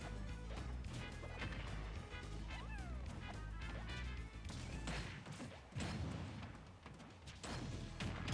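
Dark Samus lands rapid smashing attacks in a Super Smash Bros tournament match, a dense run of loud whacks, thuds and crashes over busy game music and effects.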